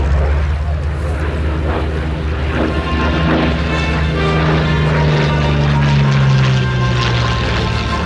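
A Curtiss P-40 single-engine propeller fighter flies overhead at the La Ferté-Alais airshow, a loud, continuous engine drone with a slowly shifting pitch as it passes, nearby and sustained throughout.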